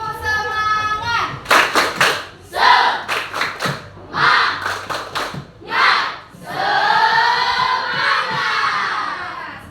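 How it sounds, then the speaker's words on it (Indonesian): A classroom of students performs a rhythmic clapping chant, bursts of claps alternating with shouted group chanting, ending in a sustained loud collective shout; a teacher's voice leads at the start. "Tepuk semangat."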